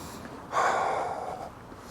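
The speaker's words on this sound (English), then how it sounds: "stop with the heavy breathing now." A single heavy breath out in the cold night air on a solitary night walk in Russia, a close, breathy exhalation lasting about a second amid quiet surroundings.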